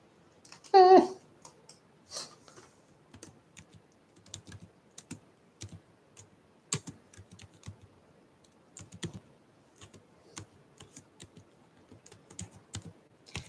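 Computer keyboard typing during an online video chat, light scattered keystrokes in irregular bursts, close but soft, with a brief voice near the start.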